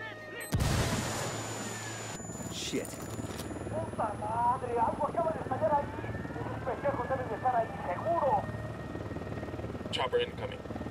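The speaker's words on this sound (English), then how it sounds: "Chopper incoming." Helicopter approaching in Ghost Recon Wildlands, a steady low rotor drone under a sharp loud burst, scattered gunfire and a persistent tone; a voice speaks briefly.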